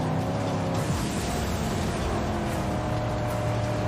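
Dense, steady car engine roar in the Mad Max video game, a loud continuous mechanical drone with grinding texture and no breaks.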